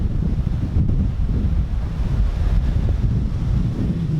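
Rough sea at the Sandals La Toc resort in St Lucia, whipped up ahead of Hurricane Isaac: a steady, heavy low roar of surf with strong wind buffeting the microphone throughout, no voices.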